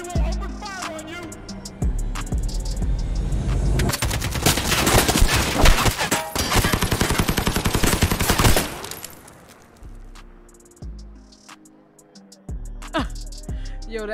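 Dense bursts of automatic gunfire and shots from a played film scene, loud and sustained for several seconds, with music and sound effects before and after.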